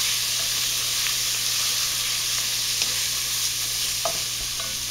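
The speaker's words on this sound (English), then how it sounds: "So in my onions are cooking nice." Onions fry in a pan with a steady, even sizzle and a low background hum, interrupted by a couple of faint scrapes from stirring.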